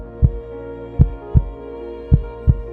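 Heartbeat sound effect: five deep, booming thumps at a slow, slightly uneven pace, loud and close over a low steady hum with no talk.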